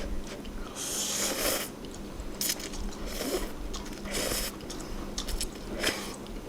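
Maggi kimchi instant noodles being eaten up close, with wet slurps and chewing bursts that come in uneven waves over a steady low background hum, and no talking.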